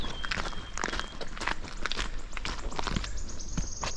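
Footsteps of a solo hiker on Watkin Path in Snowdonia, Wales, crunching steadily at close range along a trail through bluebell fields, with birdsong and a faint whistle over soft outdoor ambience.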